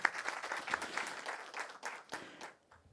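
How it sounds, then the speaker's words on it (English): Scattered audience clapping at a business event at the India Pavilion, Expo 2020 Dubai, in a room; fairly quiet, uneven bursts that fade out near the end. "big round of applause for the two young ladies in the room"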